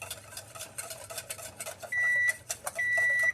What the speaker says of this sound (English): so our buzzer went off